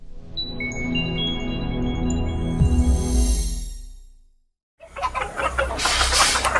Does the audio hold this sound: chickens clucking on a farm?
yes